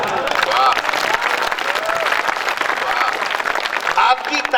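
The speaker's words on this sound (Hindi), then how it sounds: "आपकी तालियां और सघन होनी चाहिए।" A crowd at a night-time Hindi poetry gathering claps continuously, dense and close, with voices and cheers rising through the clapping.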